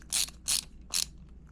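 A ratcheting screwdriver drives screws into an industrial outlet cover plate, three close, crisp clicking bursts in an even rhythm over a quiet hum, with no talking.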